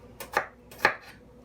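An onion chopped with a sharp knife on a board: two crisp, separate knife strikes close by, with quiet pauses between them.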